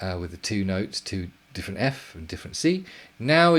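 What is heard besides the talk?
No everyday noise stands out behind the speech.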